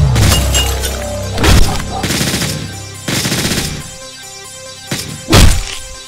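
Gunfire in the video game Hotline Miami 2, loud close bursts of rapid shots and single cracks mixed with impact thuds, arriving in clusters over a continuous game soundtrack.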